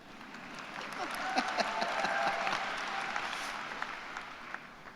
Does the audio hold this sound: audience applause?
yes